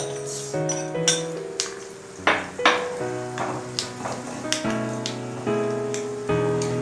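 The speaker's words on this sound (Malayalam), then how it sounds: "എണ്ണ ചൂടായിട്ടുണ്ട്, ഇതിലോട്ട് കടുകിട്ട് കൊടുക്കാം." Mustard seeds hit hot oil in a pan in a home kitchen, bringing a steady sizzle with metallic clinks of a spoon against the pan, loud and close throughout.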